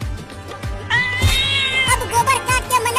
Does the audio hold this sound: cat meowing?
yes